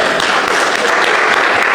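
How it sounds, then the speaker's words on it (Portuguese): Church congregation applauding during a service, a loud, dense, continuous clapping from many people close by, with no pauses. "O Senhor Jesus merece uma linda salva de palmas, amém?"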